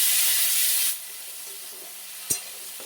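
Tomatoes and green chilies go into a hot curry pan with ginger: a loud, bright sizzle drops abruptly to a softer, steady frying hiss, with a single sharp utensil clink near the end.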